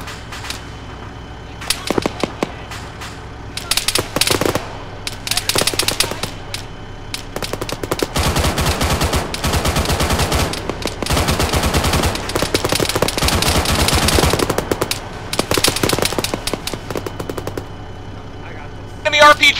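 Machine gun fire in Arma 3: scattered bursts at first, then a dense, sustained stretch of loud automatic shots through the middle, with voices talking over parts of it.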